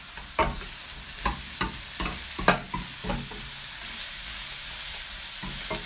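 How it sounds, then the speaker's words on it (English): Pizzoccheri vegetables being stirred in a pan, with a string of distinct scraping stirs over a faint steady sizzle and no talk. "So to this then we're going to add the rest of the vegetables. Give it a good stir."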